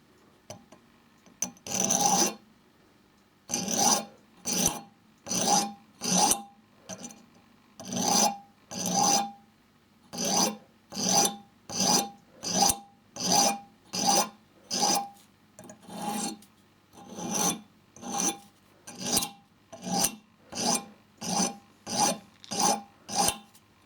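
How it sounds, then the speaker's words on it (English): Nail file rasping a burr off a fishing hook while barbel fishing on the River Swale: about twenty short, close, dry scraping strokes in a steady back-and-forth rhythm, alone with no talk. "You can take that off with a nail file"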